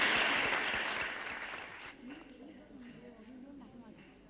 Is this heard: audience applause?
yes